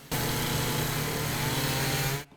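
A chainsaw runs during storm cleanup in Salina, a steady, loud, buzzing engine drone held close for about two seconds before cutting off abruptly.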